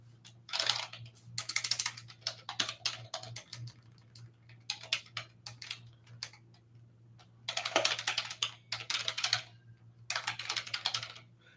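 Bursts of quick clicking keystrokes on a computer keyboard, close and fairly quiet, come in clusters separated by short pauses over a low steady hum.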